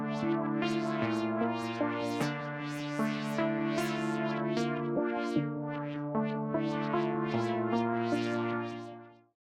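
A classic synth pad from Analog Lab's virus preset holds sustained chords that shift every second or two, the root notes and top melody removed, a smooth continuous wash that fades out at the end, with no voices.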